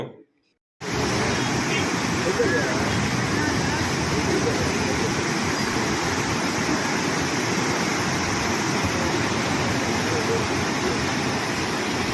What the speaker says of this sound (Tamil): தண்ணி எந்த அளவுக்கு வேகமாக வருதுங்கிற சவுண்டு இப்போ நீங்கள் கேளுங்க